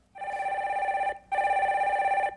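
A telephone rings twice for an incoming call on a live phone-in broadcast, two long, steady electronic trills separated by a short gap, loud and clear with no voices over them.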